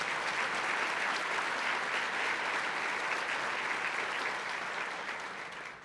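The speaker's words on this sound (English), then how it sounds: "we ought to just give them a round of applause right now" Guests at a luncheon honouring parents give a round of applause, steady dense clapping from a sizeable room that holds evenly and then tapers slightly at the end, with no voices over it.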